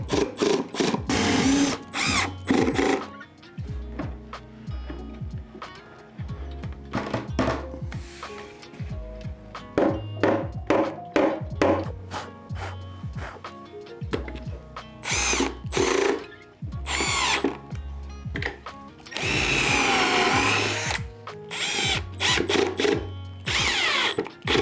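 A power drill drives screws into wood while a floating cube organizer is built. Loud repeated bursts of whirring motor, with short pauses and one long run near the end, close by and with no speech.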